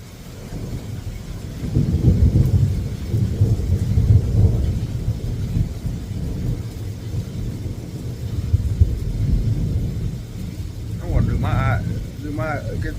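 Low rolling thunder rumbles through a storm, a broad deep roar swelling and fading across the whole stretch, with rain hiss and a voice speaking near the end.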